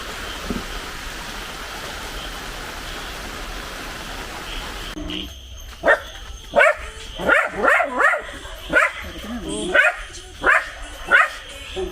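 Steady rain-like hiss, then a run of about ten sharp dog barks close by, coming in quick irregular bursts.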